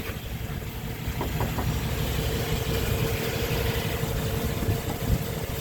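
A 1996 Chevrolet K1500 Silverado idles with a steady low rumble that holds even and unbroken throughout, at moderate distance.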